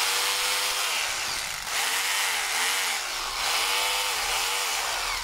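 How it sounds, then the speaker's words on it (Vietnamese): A cordless hammer drill from a tool sale runs continuously, a loud steady whine with rhythmic pulsing hammer chatter, close and without talk. "Đó, khoan nè. Ok ha. Khoan búa nè."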